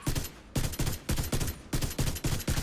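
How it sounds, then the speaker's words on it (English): Rifle fire from the video game The Division 2 comes in a steady run of loud, closely spaced shots at a moderate, even rate of fire, with no talking over it. "It's got a slower rate of fire, which is understandable with a rifle"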